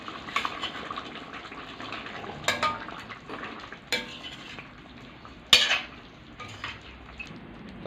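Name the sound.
beef cubes being added to a pot and stirred for beef pares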